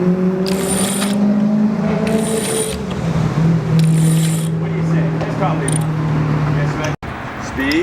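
Sailboat winch ground to hoist the mainsail, with rhythmic ratcheting clicks and creaking mechanical whines under loud wind and chatter from the crew.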